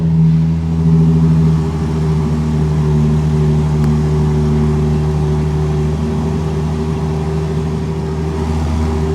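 Ferrari engine running loud and close, a steady low rumbling drone with slight swells in revs throughout, no voices over it.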